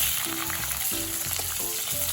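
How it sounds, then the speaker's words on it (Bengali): Cut potatoes frying in hot oil in a wok, tempered with whole cumin and cooked over medium flame: a close, steady sizzle with a few short stirring scrapes. "2-3 মিনিট সময় নিয়ে আমি মিডিয়াম ফ্লেমে আলুগুলো খুব ভালো করে ভেজে নিলাম।"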